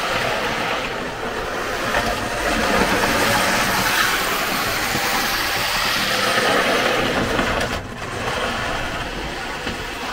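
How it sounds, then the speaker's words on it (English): A Triang model train motor runs steadily on the track, a continuous whirring, rattling drone with a brief dip near the end, heard alone and fairly close. "typical sound of a Triang motor"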